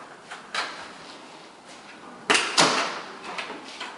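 New French doors in a renovated Leslieville duplex swinging open, with faint latch clicks followed by two louder close thumps and rattles of the doors and hardware, then lighter knocks as they settle.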